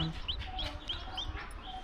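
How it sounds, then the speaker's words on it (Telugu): Hens cluck and newly hatched chicks peep repeatedly at a farm, the calls near and moderately loud over a low background rumble, with no talk. "కోడి పిల్లలు వచ్చేసాయండి."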